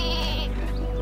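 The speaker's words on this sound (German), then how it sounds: "wie wäre es mit einem Schaf? Ich habe hier eins, warte, ich schicke dir mal eins runter." A cartoonish sheep bleats once, loud and close, from the sheep weapon in the video game Worms WMD, over steady game background sound.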